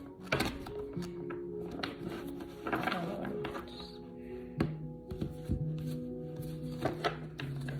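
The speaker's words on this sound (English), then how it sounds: "I don't shuffle really good." Tarot cards shuffled by hand, producing soft riffling flutters and sharp taps of the deck among scattered clicks, with low background music.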